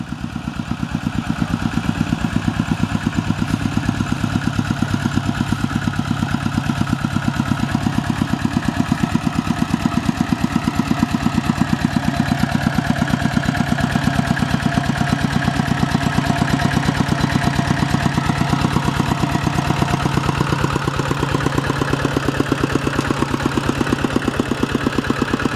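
Two engines drive water pumps draining a canal in rice-field country, a steady loud mechanical idle-like drone with low rumble running unbroken throughout, no talk over it.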